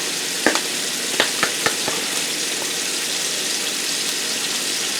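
Meat sears in a hot pan with a steady, close sizzle, broken early on by a few sharp clicks and taps as the food is handled; no one speaks.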